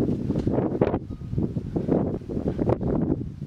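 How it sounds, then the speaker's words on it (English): Gusty wind buffeting the microphone in uneven surges outdoors near a gas burner during homebrewing, a low rumbling roar that swells and drops over a few seconds. "it's pretty windy"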